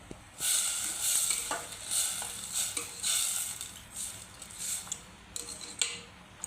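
A spoon stirs green onion curry in a pan with repeated scraping strokes over a light sizzle, close and steady, with no voices.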